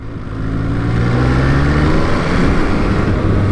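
An MV Agusta Brutale 800 motorcycle engine rumbles steadily with shifting pitch, revving and settling as it downshifts; close and loud, no voices.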